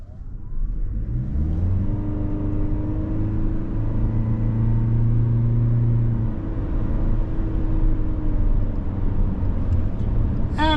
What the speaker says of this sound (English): little noisy under load, but it is a 2-liter 4-cylinder engine with the eCVT.